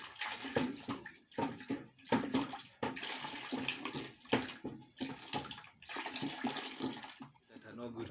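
Hot lye solution being poured while making brown soap, a splashing liquid stream that starts and stops in bursts, heard close, with voices talking over it.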